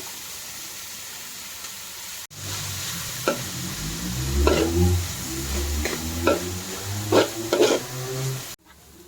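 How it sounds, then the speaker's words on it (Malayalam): Sliced onion, green chili, curry leaves and coriander sautéing in a pan for chicken curry: steady sizzling begins abruptly, with scattered stirring scrapes and clicks, close and moderately loud, no talk. "സവാള പച്ചമുളക് വേപ്പല മല്ലിച്ചീര എല്ലാം കൂടി ഇട്ട് വാട്ടണം"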